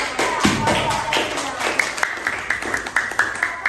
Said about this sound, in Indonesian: Berikan tepuk tangan kepada Yuina.